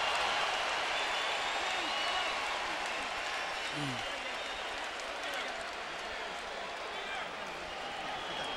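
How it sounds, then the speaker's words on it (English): A boxing arena crowd at a Mayweather versus Baldomir fight roars and cheers in a steady, dense wash of noise that holds for the whole stretch, with no clear break or single voice standing out. "Many here want to see a fight turn into a brawl, and they cheer Baldomir for his effort."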